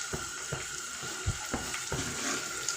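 Water splashes into a pot of snails cooking with spinach and black mushrooms, a steady pouring hiss broken by a few soft knocks and bumps at intervals, close and fairly quiet.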